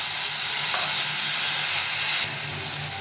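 Tomato dropped into hot oil in a pan, with dried chilli and cinnamon, sets off a loud, steady sizzle and hiss up close that flares briefly and then eases to a slightly softer crackle.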